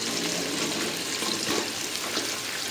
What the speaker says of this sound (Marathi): आपण यामध्ये कांदा टाकून घेणार आहोत। व्यवस्थित कांदा आपल्याला तळून घ्यायचा आहे।